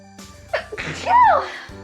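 A single sharp sneeze bursts out near the mic, preceded by a quick intake of breath.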